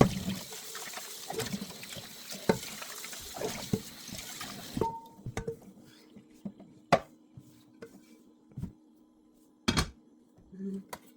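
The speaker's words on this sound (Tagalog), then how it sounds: "Hugasan muna natin yung nagagamitin natin" Tap water runs steadily for several seconds while kitchen utensils are washed, then cuts off, leaving scattered clinks of dishes and a person talking nearby.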